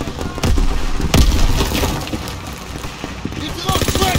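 Dense gunfire in the WWII shooter Call of Duty WW2 during a Rhine battle, with bursts and booming blasts packed across the clip, loud and chaotic, while soldiers shout orders over it.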